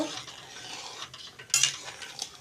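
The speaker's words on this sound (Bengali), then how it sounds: "এখন তেঁতুলের ইয়েটা দিয়ে দেব রসটা দিয়ে দেব এখন আবার নেড়ে নেব" Pumpkin and fish curry with tamarind juice being stirred in a pot, giving soft scraping and clinking of a spoon against metal with a couple of sharper knocks, close by with no talking.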